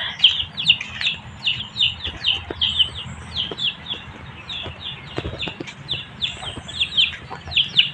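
Backyard chickens cluck and squawk in frequent short bursts, close and lively, with a few thumps and rustles mixed in.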